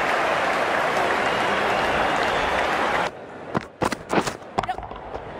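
A crowd at an India versus England Test cricket match in 2021 applauds a boundary four, a loud continuous wash of clapping and cheering that cuts off abruptly halfway, leaving a few scattered claps and thumps.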